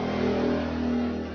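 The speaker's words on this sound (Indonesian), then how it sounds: "Motor lewat." A motorcycle engine passing close by, a brief steady droning buzz with a strong low tone that holds level, then fades slightly as it moves away.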